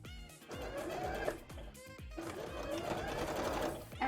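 A sewing machine runs in short bursts as it stitches a zigzag on cosplay fabric for a Pumpkaboo pumpkin costume, with a rapid mechanical whirr and brief pauses between runs, close and clear.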